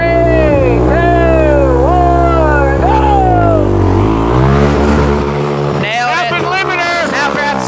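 Raptor quad ATV engine revving hard and climbing a hill, loud and close, pitch rising and dropping through several throttle surges before gearing up, with people talking over it.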